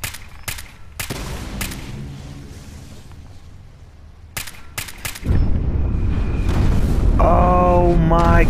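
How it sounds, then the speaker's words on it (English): Explosions and bursts of gunfire from the Fallout 4 game on PS4, with several sharp blasts spread across the first half, then a louder sustained roar of combat with whining tonal effects near the end. "I think they said that these explode"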